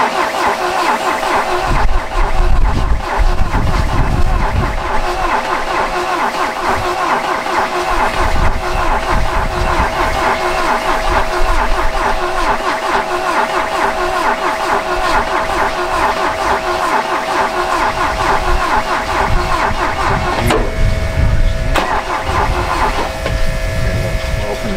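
A 1966 Volvo Amazon wagon engine cranks and runs, with a steady mechanical rumble and rattle that holds through most of the stretch and shifts briefly near the end, while people talk over it.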